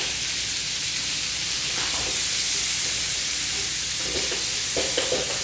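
Onions frying with bacon in a pan for bourbon bacon jam, a steady close sizzle with occasional stirring scrapes and crackles throughout, no talking.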